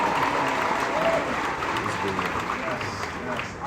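A big arena crowd at a live finance event at Madison Square Garden keeps up a dense, loud wash of clapping and cheering, with faint voices mixed into the steady roar.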